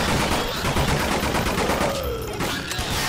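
Rapid gunfire from Nightmare House 2, a horror shooter game, crackling in dense bursts throughout, loud and close, with a voice briefly audible beneath.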